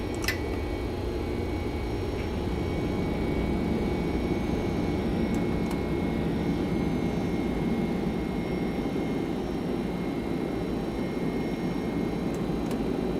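A Flight Factor Boeing 767 jet roars through its takeoff roll and climb in the X-Plane 11 flight simulator, a continuous, even, broadband engine rush with no breaks, fairly loud and steady throughout.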